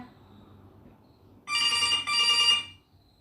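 A phone rings in a loud, bright electronic burst lasting about a second, then briefly cuts and rings again, standing out clearly over a quiet background.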